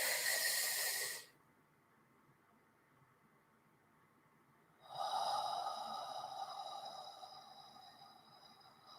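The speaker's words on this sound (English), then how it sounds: "Breathe in." A slow, deep breath drawn in during a guided meditation, audible as a soft airy hiss that swells and then fades over several seconds, close and quiet, following a brief exhale at the start.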